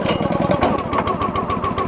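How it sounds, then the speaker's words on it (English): The small engine on a Wolfe Ridge FC-24 firewood conveyor fires up and runs, a loud, close, rapid putter of pulses like a lawn mower engine, continuing steadily throughout. "now we're going to come over and start the engine"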